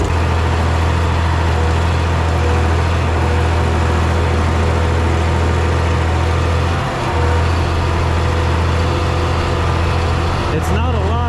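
Vintage 1755 tractor engine running before a small-farm wheat harvest, a loud, steady low drone throughout with a brief dip partway, while someone talks over it.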